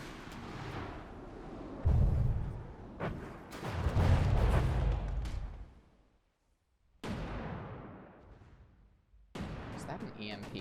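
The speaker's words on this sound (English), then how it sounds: "Is that an EMP missile?" An EMP missile explodes in a robot battle video game, with several loud booming blasts and rumbling decays, a brief silent gap, then further heavy impacts.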